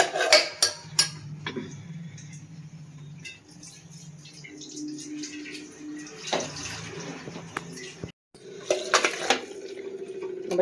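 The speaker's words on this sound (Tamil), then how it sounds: "நம்ம தேவையான அளவுக்கு தண்ணி சேர்த்து வேக வச்சிடலாம்." Water pours into a pressure cooker holding a snake gourd kootu, a steady splashing fill broken by clinks of metal utensils and a brief pause, heard close in a home kitchen.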